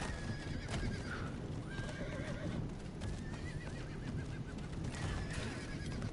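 A horse in the game Diablo IV whinnies several times over steady clip-clopping hooves, the neighs rising and falling above a dense, continuous game background.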